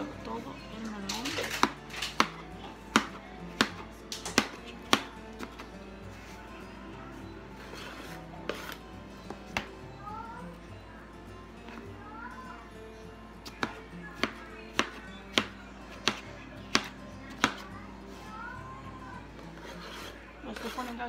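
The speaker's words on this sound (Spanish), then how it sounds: "vamos a cortar todo el melón" A knife cutting a melon into pieces on a board, a series of sharp, close chops and taps in an irregular rhythm, with quiet voices in between.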